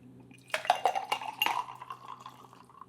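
A Mai Tai cocktail is thrown between vessels over a sink, liquid splashing and pouring in quick bursts with clinks of glass and metal, then a thinner trickle trailing off.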